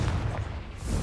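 A Confringo blasting spell explodes in the game Hogwarts Legacy, a low, rumbling boom filling the moment with a dense, sustained roar rather than a sharp crack.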